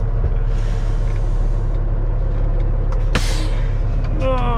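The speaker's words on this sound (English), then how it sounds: "Okay, truck, warm up a bit while I'm gone." A truck engine idles to warm up, giving a steady, close low rumble with an even hum, broken once by a short hissing burst partway through.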